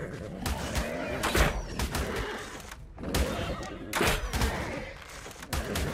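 Blows striking a tamed dinosaur in ARK: Survival Evolved on the Ragnarok map, a series of dull thuds and impact hits amid chaotic game noise, with bursts of louder clattering strikes throughout.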